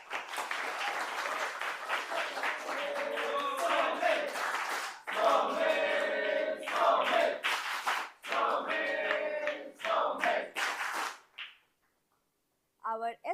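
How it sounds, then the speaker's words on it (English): Loud applause from an audience welcoming newly elected officers at a club meeting, sustained clapping in several waves with brief dips between, ending in a short pause and a final scattered burst. "Now, let's welcome all of them with a round of applause, starting with our Associate SAA, Somil Gupt"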